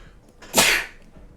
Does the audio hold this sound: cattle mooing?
no